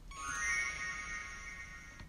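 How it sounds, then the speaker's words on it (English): A sustained synth chord from a Logic Alchemy patch drenched in heavy reverb rings out with bright, shimmering upper tones, swelling in and holding steadily before a soft decay, quiet and alone. "I took one of those Alchemy patches and simply just added a lot of reverb, again, playing some chord"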